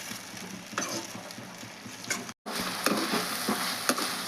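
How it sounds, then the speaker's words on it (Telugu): Egg chutney masala with tomato sizzles and fries in a pan, a steady crackling hiss broken by occasional stirring clicks, with one short dropout midway and no voices. "ఇది కొద్దిగా బాగా పచ్చివాసన ఉండేంత వరకు ఫ్రై చేస్తాను బాగా"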